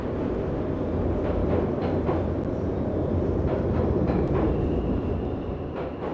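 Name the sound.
train passing in video game Pools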